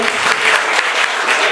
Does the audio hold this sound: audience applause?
yes